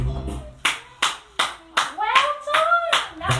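Small hands clap at a baby tumble session, about seven claps in a steady, slightly uneven rhythm. An adult voice sings and talks alongside, and the talk rises in the second half.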